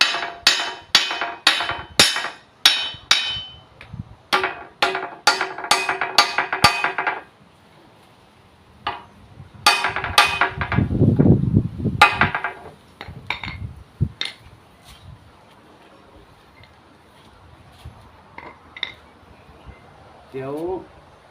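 Repeated sharp metal hammer blows ring out in a rapid series while fitting a hoe handle, then pause and resume more sparsely, with someone talking between strikes.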